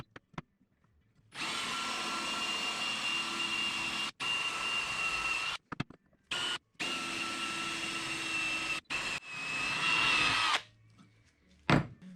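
A power drill bores holes through a mounting backing plate for a bass boat graph mount, with several long, loud, whining runs broken by short pauses and a brief final burst.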